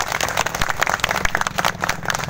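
Crowd applause at a political rally in Darjeeling, steady dense clapping with a rhythmic beat running through it, loud and continuous with no clear talk.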